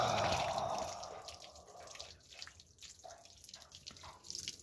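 Water arriving through a pipe from uphill in a forest area in the morning: a loud gush of flowing water at first, settling into quieter trickling and dripping splashes.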